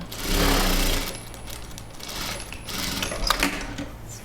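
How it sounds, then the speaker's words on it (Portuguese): Sewing machine stitching scraps of knit fabric into the base of a baby comfort blanket, a steady mechanical whir of needle strokes running close and loud, with brief pauses and a short reverse stitch. "você vai baixar a sua agulha e vai começar a costurar"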